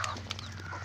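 A pet hen gives a brief, close cluck with a slight rasp, heard alone over a low background hum.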